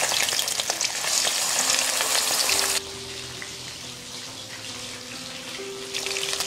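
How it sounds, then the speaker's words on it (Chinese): Batter-coated hairtail fish deep-frying in oil over low heat, a loud dense crackling sizzle that abruptly drops to a softer bubbling hiss midway, then swells again near the end, close up with no talk. "油温5成热下锅，全程小火慢炸"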